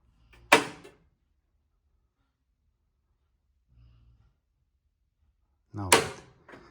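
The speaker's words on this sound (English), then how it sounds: "There's nothing there, but you hear the click. It's locked." A Whirlpool Duet washing machine's door lock gives two sharp, close clicks several seconds apart, with near silence and a faint low thump between them.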